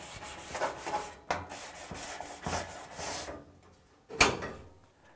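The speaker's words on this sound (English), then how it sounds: "This is why I like using a sanding sponge, because you can kind of smush this in there" A sanding sponge rubs back and forth over an old baseboard heater in quiet, rhythmic scratchy strokes, close by, with a sharp knock near the end.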